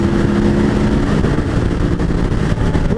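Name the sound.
KTM 950 Adventure motorcycle accelerating at full throttle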